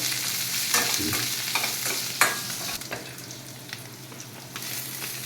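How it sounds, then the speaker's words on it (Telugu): Beetroot pieces fry with onions in a tempering pan over a medium flame, a steady low sizzle with scattered scraping and clicking stirs. "ఎర్రగడ్డలు బాగా వేగిన తర్వాత బీట్రూట్ ముక్కలు వేసుకున్నామండి"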